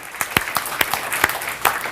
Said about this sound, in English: Would you guys just give them a round of applause for allowing us to do this?